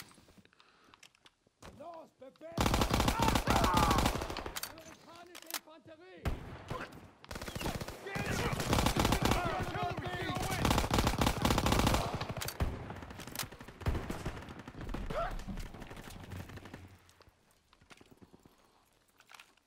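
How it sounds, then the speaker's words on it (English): Heavy weapon fire in a Call of Duty: WW2 campaign battle, loud blasts and bursts of gunfire packed into a long chaotic stretch, with voices and battle noise around it before fading out. "Oh, that's a shotgun."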